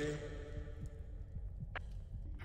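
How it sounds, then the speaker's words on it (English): A steady, heavy heartbeat in the video game Forewarned thuds low and rhythmic beneath a humming background, with a brief higher blip partway through. "Y'all hear that? Who heart beating so hard?"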